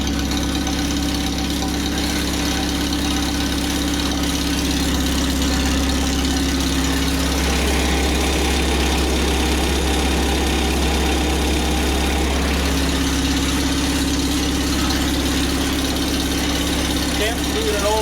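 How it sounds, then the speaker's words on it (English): Old tractor engine idling just after starting, a steady low rumble with a throaty beat, close and loud throughout, its tone dipping briefly in the middle before settling back. "Can't beat an old tractor."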